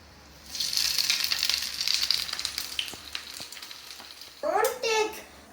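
Chicken nuggets frying in a pan: a bright sizzling hiss that builds from about half a second in, crackles and then fades, and a voice breaks in near the end.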